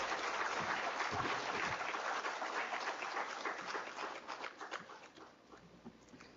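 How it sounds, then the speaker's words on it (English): Audience at a memorial lecture applauding to welcome the Vice President of India, a dense wash of clapping that fades toward the end, with no talk over it. "May I request the audience to welcome him with big round of applause."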